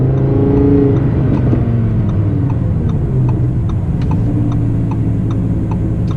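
A 2018 Audi R8 V10 Plus in performance mode with the sport exhaust open, its engine droning loud and steady from inside the car, a low rumble holding through the whole stretch with faint ticking above it.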